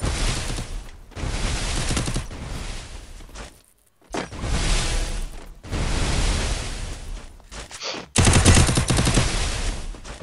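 Loud, close automatic gunfire from a shooting video game, rapid sustained bursts broken by brief pauses, then a final dense volley.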